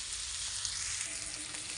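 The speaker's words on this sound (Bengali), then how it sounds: "সব সবজিগুলো একে একে দিয়ে ভালো করে ভেজে নিতে হবে" Vegetables fry in a pan for chicken soup, a soft, continuous hiss of sizzling oil that stays faint and even throughout, with no voices.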